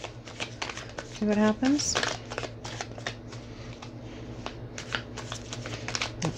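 Tarot cards being shuffled during a card reading, with quick papery riffles and flicks running under continuous close speech.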